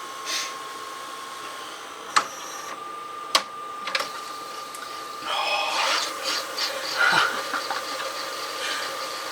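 An LG RC689D VHS/DVD VCR fast-forwarding a tape: a faint, steady mechanical whir and hum, broken by sharp clicks and clunks, then a rising buzzing drone as the tape transport speeds up.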